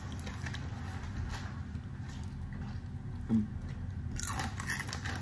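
Someone eating crisps, close crunching and chewing in a quiet room, a steady run of small crisp bites with one louder crunch near the end.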